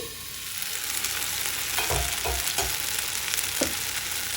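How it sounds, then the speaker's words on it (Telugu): Tomatoes frying in a pan for a tomato mint chutney: a loud, continuous close sizzle with a few soft low thumps and stirring taps, and no voices. "మూత పెట్టి 4-5 నిమిషాలు వేగనివ్వండి."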